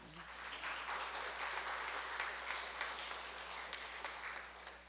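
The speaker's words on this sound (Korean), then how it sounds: "박수 또 한 번 치는데 지나가야겠습니다." A church congregation claps during a Sunday service, a moderate, continuous wash of applause from a seated crowd, heard slightly distant over a low steady hum.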